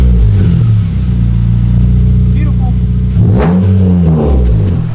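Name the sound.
car engine revving with catback exhaust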